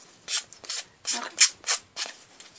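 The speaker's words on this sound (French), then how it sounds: "je frotte un peu les bords" Paper edges of a punched circle being rubbed by hand, cut with a dull paper punch that tears the paper, giving six short scratchy swipes in an uneven rhythm, close and fairly quiet.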